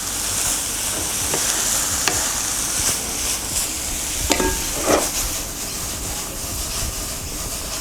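Egg fried rice, enough for three people, being stirred in a pan: repeated scraping strokes over a steady, close hiss of frying, with no talking.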